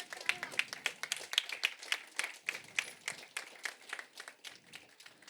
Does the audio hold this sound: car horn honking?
no